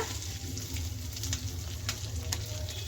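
Curry leaves and asafoetida sizzle steadily in hot oil in a pan for a pepper garlic gravy, a close, even crackle with faint clicks of stirring and no voices.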